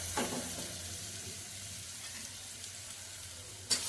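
Mutton frying in a pan with salt, garam masala, coconut masala and coriander, making a faint, steady sizzle with a few clinks of stirring.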